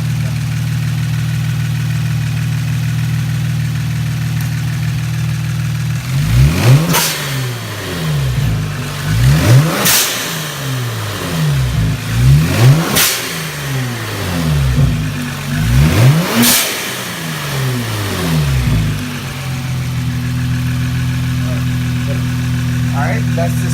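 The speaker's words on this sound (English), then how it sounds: "I'm going to do a couple revs so you can hear the blow valve" A Kia Stinger GT fitted with an intercooler and blow-off valve idles steadily, then revs sharply four times, each climb ending in a hiss of released air before settling back to a smooth idle, loud and close.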